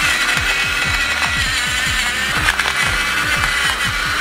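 An electric pepper grinder grinds peppercorns with a buzzing motor whine and a rapid, repetitive crunching chatter, close and steady for several seconds with no voices.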